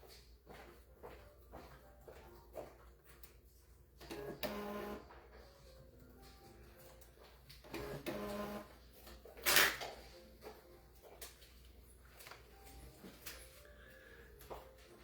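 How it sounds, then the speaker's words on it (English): A printer prints name tags in a series of intermittent mechanical whirs and clunks with brief louder bursts, set against quiet room sounds and a few light handling noises. "for some reason it's reprinting all of the name tags."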